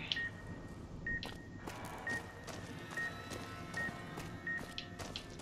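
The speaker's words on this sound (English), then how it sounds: "Yes, I hear you beeping." A thin electronic beep repeats about once a second, steady and evenly spaced, over quiet game ambience with faint background clatter.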